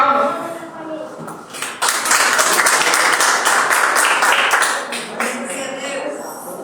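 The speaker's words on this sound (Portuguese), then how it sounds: "Vamos receber com palmas?" Clapping from a small congregation at a home church service swells into a dense, steady burst for a couple of seconds, then thins and tapers off, with faint voices underneath at the start.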